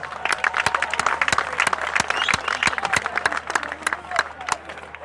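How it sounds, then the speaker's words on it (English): Outdoor crowd at a Sunderland rally applauding a speaker, loud sharp claps from many hands close by, mixed with cheering voices and background chatter. "Can I have some applause for him, please?"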